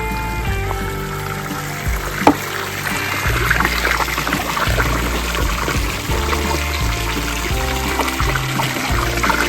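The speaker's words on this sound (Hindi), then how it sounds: "ठंडे पानी से धो रहे हैं आप कपड़े?" Clothes being washed by hand in icy cold water outdoors in a frozen Himalayan village in Lahaul and Spiti in winter, with steady pouring and trickling water, splashing and a sharp knock near the middle, close and continuous.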